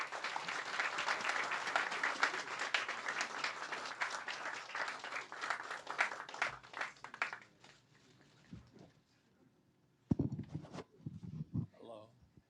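An audience welcoming speakers breaks into loud applause that fades out over several seconds. After a near-silent gap, a few sharp knocks and scattered sounds follow.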